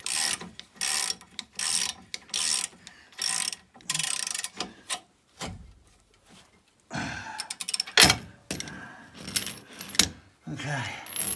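A ratchet clicks in short bursts while a nut is tightened on a ball joint of a 2006 Ford Transit, with metallic clatter and pauses between the strokes.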